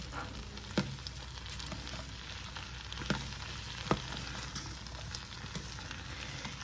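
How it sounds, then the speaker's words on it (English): Vegetables sear quietly in an Instant Pot for clam chowder, a faint, steady sizzle broken by a few soft clicks of stirring. "we're going to let this sear some of the vegetables"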